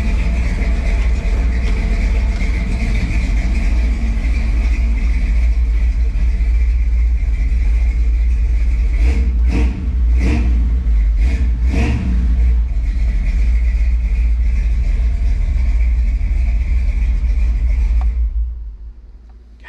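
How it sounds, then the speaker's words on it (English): A 1948 Chevrolet pro-street truck's big block V8 rumbles deep and loud through dual Flowmaster exhaust, a steady lumpy idle with a few quick throttle blips midway, then cuts off abruptly at the end. "Pretty classic old big block sound."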